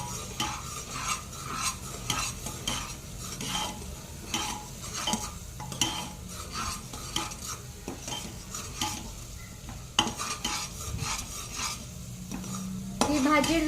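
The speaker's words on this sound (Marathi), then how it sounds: "मसाला चांगला परतून घ्यायचा आहे।" Spiced masala sautéed in a pan for a sweet corn and capsicum curry, with steady soft sizzling and repeated scraping strokes of a spoon stirring, close and continuous with no talking.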